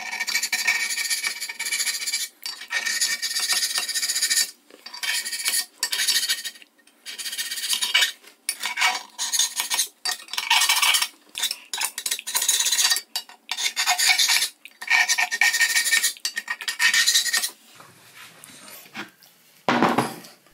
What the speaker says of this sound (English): make it especially difficult to apply enough force to scrape away the paint